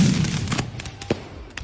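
A bombshell firecracker bursts at a New Year celebration in Asturias, Cebu, followed by a sharp loud crack and a ragged series of further pops and bangs that trail off quickly.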